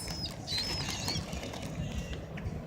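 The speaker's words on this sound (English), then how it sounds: "there's pigeons." Pigeons flapping their wings close by, a steady soft fluttering patter that runs through the whole moment with light rustling and no talk.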